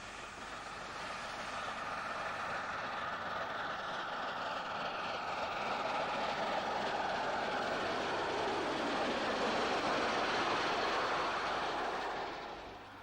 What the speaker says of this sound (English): An A4-headed express is followed by another 9F.